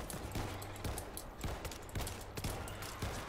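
M16 rifle gunfire in World War Z New York level, rapid bursts of shots in a busy firefight, several sharp cracks in quick succession, faint and mixed with other combat noise.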